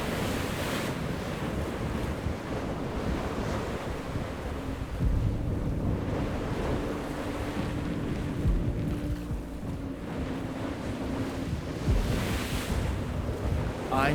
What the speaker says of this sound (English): We had big waves to start with, like 3-meter waves